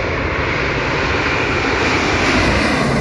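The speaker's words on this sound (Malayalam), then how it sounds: "എയർ ലൈബീരിയയുടെ മാഡ്രിഡിൽ നിന്ന് വരുന്ന ഒരു എയർബസ് 350 വിമാനമാണ്." A loud, steady roar fills the air as an Airbus A350 airliner flies in to London Heathrow, a broad continuous engine rumble that stays close and unbroken throughout.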